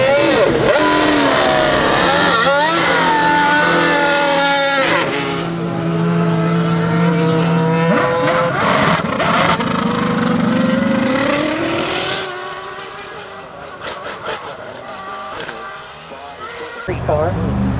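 Race car engine revving hard at the Goodwood Festival of Speed, a loud, sustained roar with rising and falling pitch sweeps, fading and dipping near the end before a sharp burst returns.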